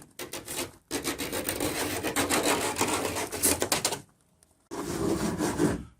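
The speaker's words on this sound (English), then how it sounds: "little filing here." Hand file scraping along the metal edges of a van window opening, a long run of rapid rasping strokes, then a short pause and another burst, close up with no talking.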